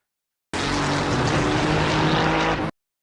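A GT3 race car in iRacing at Virginia International Raceway roars at full throttle over the curb and runoff, with a steady, loud, continuous engine note and no talk.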